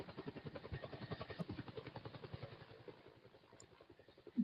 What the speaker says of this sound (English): Yes, I can drive the helicopter around.